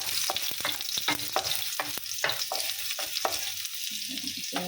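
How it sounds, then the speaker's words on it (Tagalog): Garlic sautéing in olive oil in a home kitchen pan, a steady close sizzle broken by repeated clinks and scrapes of a stirring utensil, with no talking. "olive oil po guys yung ginagamit ko pag naggigisa. Ayan, nilagay na po natin yung ating bawang"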